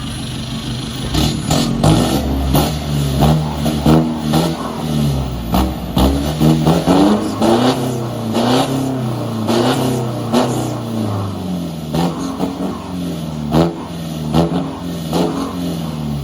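Isuzu D-MAX 2020 automatic pickup fitted with an aftermarket T.O.D header exhaust, revving repeatedly in loud, close bursts that rise and fall without a break, the exhaust note dominating throughout with no talking.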